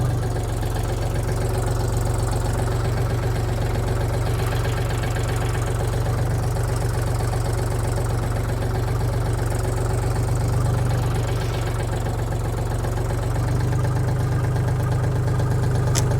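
A Foton Lovol 244 mini tractor's engine runs steadily and loudly up close while the tractor reverses, giving a constant low, throbbing diesel drone with a slight knocking texture and no change in pace.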